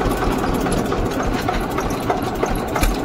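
An Eicher 241 tractor engine runs steadily and close by while being shifted into fourth gear, giving a continuous mid-pitched diesel chug with no voices over it.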